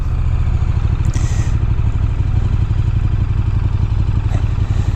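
A 2015 KTM 1290 Super Duke R on a test ride holds a loud, close, steady engine drone, with wind rushing over it throughout.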